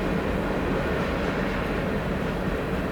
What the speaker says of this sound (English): I wonder how much that train makes to take that load.